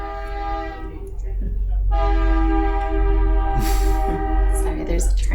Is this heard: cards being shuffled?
no